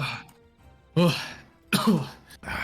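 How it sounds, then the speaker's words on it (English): A person coughs and clears their throat after choking on water: three loud, harsh bursts close up, separated by short pauses. "Out of RP, I was actually choking on water there."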